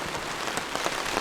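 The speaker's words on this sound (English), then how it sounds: "You can probably hear the wind and the rain." Rain and wind beat on a tarp at a winter campsite, a dense steady patter of drops with nobody talking.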